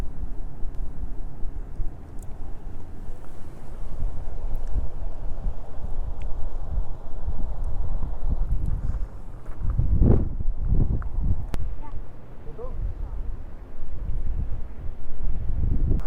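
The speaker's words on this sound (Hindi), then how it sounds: "इतनी तेज हवा चल रही है कि मेरी आवाज़ पता नहीं आ रही होगी" Heavy wind at Deepak Tal lake in Ladakh buffets the microphone in low, continuous rumbling gusts, with a few louder thumps midway and no voices.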